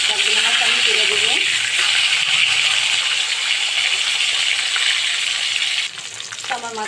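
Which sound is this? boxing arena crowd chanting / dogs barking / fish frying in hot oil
fish frying in hot oil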